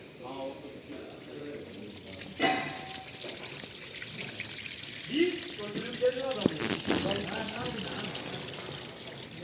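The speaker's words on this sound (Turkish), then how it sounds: "Aç bir daha suyu." Tap water runs and splashes through a household heating radiator panel being flushed, a continuous rushing trickle with a few louder gushes, under people talking nearby.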